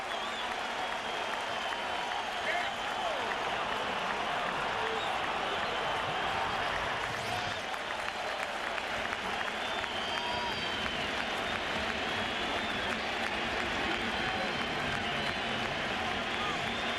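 A baseball crowd at a 2000 World Series game at the Mets' stadium rises to its feet with the bases loaded, producing a sustained roar of cheering and applause that stays loud and dense throughout, with a commentator talking over it.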